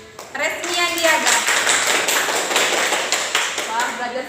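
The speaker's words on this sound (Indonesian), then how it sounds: "Tepuk tangan buat Resmian Diaga" Applause from a classroom of students after a pupil answers, a burst of quick hand claps filling the room with overlapping chatter and a teacher's voice on top.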